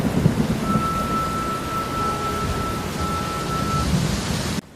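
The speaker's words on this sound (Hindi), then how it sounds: "तेज बरसात चल रही" Heavy rain pours in a dense, steady hiss with low thunder rumbling underneath, a constant close storm wash that cuts off abruptly at the end.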